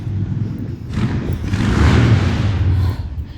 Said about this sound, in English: Sorry for the noise. There's some person on a motorcycle.